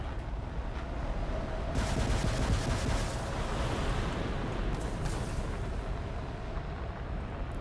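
Rockets fired in the War Thunder combat game rumble amid dense explosions and crackling gunfire, a continuous loud barrage with sharper bursts partway through.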